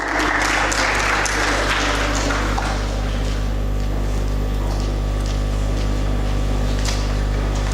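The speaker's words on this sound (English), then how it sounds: "Please give him a big round of applause." Audience applause at an English speech competition as the next competitor, Muhammad Ayan Ali, is called up: a dense, loud wash of clapping at the start that thins out over the following seconds against a steady low hum.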